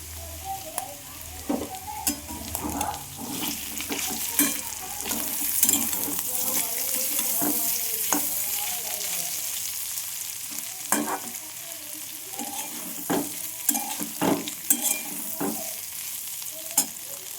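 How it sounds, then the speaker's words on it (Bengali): Beetroot frying with poppy seeds, a continuous close sizzle punctuated by repeated scraping stirs and utensil knocks against the pan, fairly loud and uneven in rhythm. "আমি এখানে বিট পোস্ত দিয়ে ভেজে রেখেছি।"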